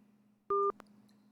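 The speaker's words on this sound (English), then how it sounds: "I'm gonna call this person back over here." A single short pair of telephone keypad dialing tones, one crisp beep lasting a fraction of a second, followed by a faint click over low background hum.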